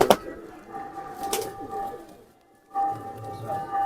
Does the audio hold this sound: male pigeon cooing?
yes